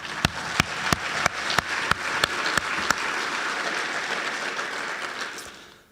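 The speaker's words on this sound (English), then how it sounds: "So give them a round of applause." A crowd applauds graduating fire recruits at the South Metro Fire Class 23-1 graduation ceremony. The clapping is steady and full, with sharp evenly spaced clicks over it for the first few seconds, then it fades out at the end.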